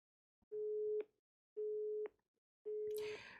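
A phone line plays a busy signal after the caller's number was blocked: three evenly spaced, clean electronic tones, each about half a second long, with short silences between them.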